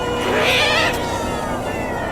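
A kitten in a game meows angrily in a drawn-out, strained caterwaul, loud and close, repeating with wavering pitch.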